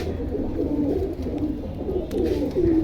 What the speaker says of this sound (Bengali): খুব সুন্দর সুন্দর কবুতর কালেকশন আজকে